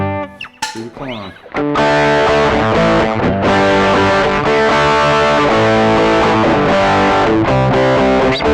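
After a few soft plucked notes, an electric guitar through a Klon overdrive pedal clone plays loud, driven overdriven chords and lines with a warm, saturated tone.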